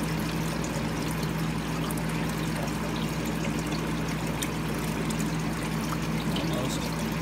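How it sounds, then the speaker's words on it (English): Water gurgles and trickles steadily as a siphon drains a garden grow bed, a continuous close pouring flow with no pauses. "starting to gurgle there. Finishing off now. Dumping the entire bed in about a minute."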